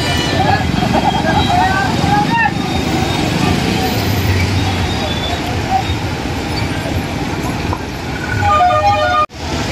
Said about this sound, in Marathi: मार्केट यार्ड चौक हे फुल जाम झालेला आहे।